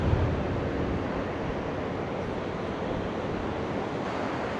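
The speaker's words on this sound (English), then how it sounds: "Can't believe how rough that sea is" Rough sea surges and breaks along the shore at Seaham, a constant loud roar of surf with wind rumbling across the microphone and no voices.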